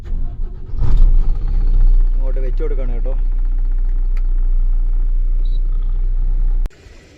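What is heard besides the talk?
tipper lorry engine running before leaving loaded with GSP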